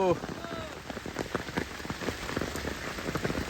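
Steady heavy rain patters densely on a surface at a forest dam, close and continuous, with faint voices in the background.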